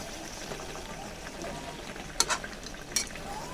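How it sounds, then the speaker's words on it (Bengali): Beef and potatoes fry in a pan for a Bengali curry, a soft continuous sizzle with a few sharp scraping stirs of a spoon near the end, no talking. "মাংসটাকে কষিয়ে নিলাম"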